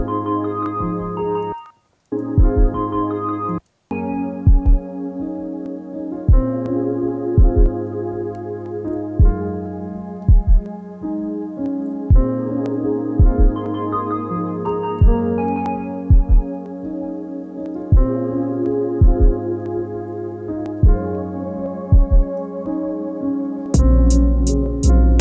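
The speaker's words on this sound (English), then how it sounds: "we have the kick in here. It's a heartbeat." Heartbeat sample serving as the kick drum in a beat, a soft low double thump repeating steadily under layered melodic tones and sustained chords, with a brief dropout partway and no voices.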